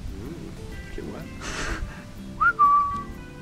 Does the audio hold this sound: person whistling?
yes